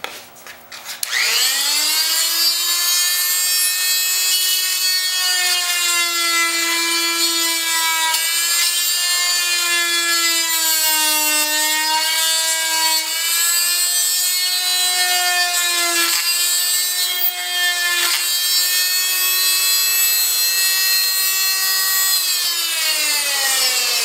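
A blade cuts through a small piece of hard white oak, producing a loud, close, steady whining tone that wavers slightly in pitch and runs nearly the whole time without pause. No one talks.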